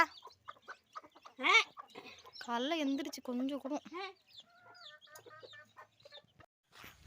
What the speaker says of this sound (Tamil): மாமியார் வந்து கோழிக்கு வந்து அரிசி கொடுக்குறாங்க